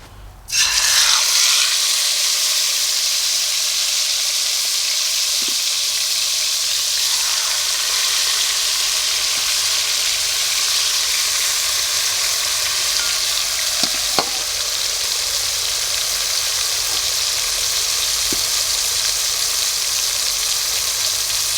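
Jerk pork dropped into hot oil bursts into a loud, steady sizzle that continues for over twenty seconds, with a few faint clinks and stirring sounds and no talking.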